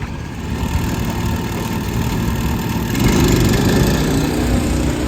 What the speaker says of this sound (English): they didn't take the muffler or anything off of it yet. Turbocharged, Bradley.